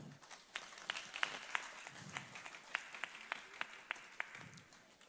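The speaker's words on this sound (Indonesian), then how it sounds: "Tepuk tangan untuk Raisa." Scattered clapping at an Islamic religious lecture in Indonesia, a dozen or so sharp, fairly evenly spaced claps from a few people in a quiet hall, faint and sparse rather than a full ovation.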